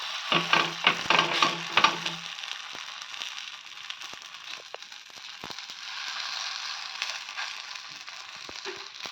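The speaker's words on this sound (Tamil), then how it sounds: "தட்டிட்டு இப்போ தோசைக்கல் மேலே போட்டுக்கலாம்." Coconut poli, a sweet stuffed flatbread, sizzling on a hot dosa tava, with several close crackling pats and stirring knocks at the start before it settles into a soft, steady fry.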